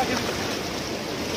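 Steady broadband wash of sea waves at the shore on a beach outing, continuous and moderately loud with wind noise on the microphone and no distinct breaks or voices.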